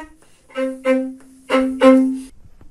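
A bowed string section plays a phrase from Shostakovich's Jazz Suite Waltz No. 2, with four swelling sustained notes over a steady low tone, alone and fairly close, ending in quiet.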